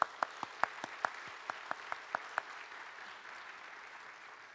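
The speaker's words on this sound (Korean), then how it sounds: "우리 한나들에게 다시 한번 박수할까요?" Sparse handclaps from a small church congregation at a university worship service, about a dozen sharp claps in the first two and a half seconds, then fading into quiet room tone.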